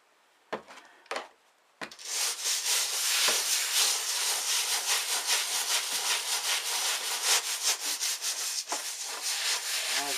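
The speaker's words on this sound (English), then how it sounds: "The idea of this brush is I'm trying to get into all the little nooks and crannies." A brush scrubs a car sun visor coated in degreaser. A few sharp taps come first, then a close, continuous bristly scrubbing in rapid back-and-forth strokes.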